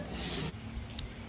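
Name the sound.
sanding glider wing with very coarse sandpaper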